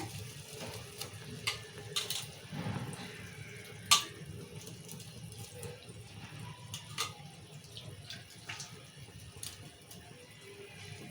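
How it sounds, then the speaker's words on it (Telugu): Quiet splashing and sloshing of water in a bowl, with soft clinks and scrapes, as wheat semolina is rinsed by hand. "రెండు మూడు మాటలు నీళ్ళు పోసి కడుక్కొని వచ్చిన"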